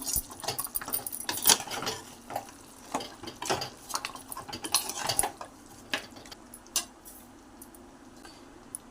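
A spoon scrapes and clinks against a pot while mutton paya curry with spices is stirred, making irregular close knocks and scrapes over a quiet background.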